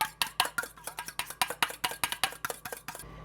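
A spoon stirs an egg into cooled pumpkin blondie batter in a bowl, making a quick, steady series of about fifteen scraping clinks close up that stop abruptly near the end.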